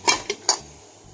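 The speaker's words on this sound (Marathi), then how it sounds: "आता दुसरं पात्र ठेवायचं।" Metal idli mould plates clank into a steamer in a home kitchen, three quick bright metallic knocks and a short ringing decay, close and clear with no speech.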